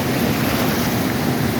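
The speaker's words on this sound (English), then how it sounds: "You can see here, water's ripping down through there, but it's going back in the opposite direction this way." Floodwater from heavy rain tears down a swollen creek below a dam, a steady, loud, broadband roar of rushing water with wind buffeting the microphone, unbroken and with no voices.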